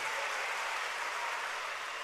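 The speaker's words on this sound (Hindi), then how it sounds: "इतनी बड़ी व्यवस्था जिन्होंने की है, उन सारे कार्यकर्ताओं के लिए जोरदार तालियां हो जाएं।" Loud, steady applause from a large audience at a Banjara Kumbh religious gathering, a dense wash of clapping that fills the whole moment without pause.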